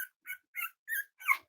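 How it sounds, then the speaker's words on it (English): A two-week-old puppy whimpers in five short, high, separate cries spaced evenly over a moment, close and fairly soft, with silence between each. "the one making those little puppy noises"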